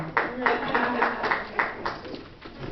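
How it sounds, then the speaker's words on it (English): Audience at a Black book fair in Los Angeles clapping, a short patter of applause from a modest crowd, fairly close, with overlapping voices underneath. "Let's give her another round of applause"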